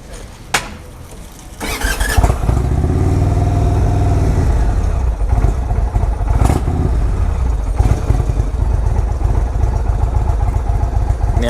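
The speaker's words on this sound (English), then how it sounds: "By pushing that, it is going to fire up the bike, but it is in first gear." A 2019 Indian Chieftain 116 motorcycle with a Stage 3 kit fires up after a short clunk, then its engine runs loud and close with a steady, deep rumble that holds for about ten seconds.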